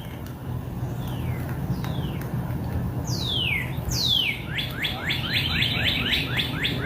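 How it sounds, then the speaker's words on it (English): Birds chirp and sing outdoors, quick descending tweets that grow into a rapid repeated trill over a steady background rush. "Listen to the sweet sounding sounds of birds."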